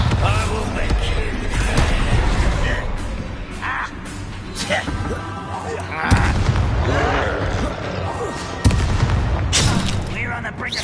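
Bombarda explosion spells cast in Hogwarts Legacy, heavy booms and blasts piling up amid game clatter and character voices, loud and dense across the whole stretch.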